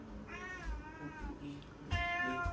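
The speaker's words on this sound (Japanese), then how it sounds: "ツナだからって言って自分たちのご飯だと思って猫たちが大騒ぎしちゃった" Several cats meow excitedly in a home kitchen, expecting tuna, with a few drawn-out meows early on and a louder, sharper meow near the end over quiet background noise.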